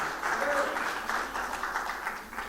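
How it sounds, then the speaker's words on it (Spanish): A church congregation claps together during a sermon, a moderate steady wash of many hands applauding, swelling early and then tapering slightly, heard from within the room. "¿Cuánto le dan palmas al Señor?"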